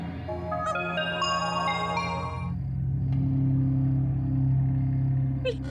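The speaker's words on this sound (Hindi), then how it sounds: "इतनी रात को किसका मैसेज है?" A mobile phone rings with an incoming message during a Hindi horror drama at night, a repeating melodic ringtone that plays for a few seconds over a low, steady rumble before giving way to the drone.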